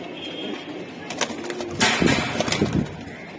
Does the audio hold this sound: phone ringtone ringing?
no